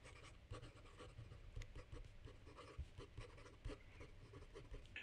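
A Hongdian N11 Blue Rhombus fountain pen writes quickly on paper with a wet flow, giving a continuous scratchy nib rustle with short stroke bursts throughout, close and fairly quiet, with no talking.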